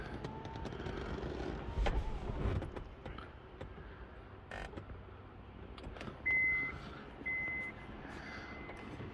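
Honda S2000 roadster emitting short beeps from its lock position, a few brief tones in the second half of the clip over a quiet, rumbling background.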